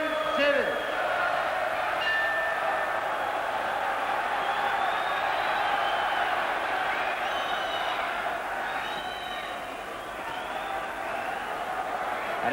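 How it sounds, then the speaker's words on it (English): A large Belfast crowd roars continuously at a 1984 boxing match, a sustained wall of cheering and chanting that stays loud throughout. "this amazing crowd, beginning to set up the victory cheer"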